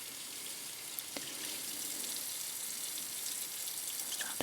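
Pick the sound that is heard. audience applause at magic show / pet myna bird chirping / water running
water running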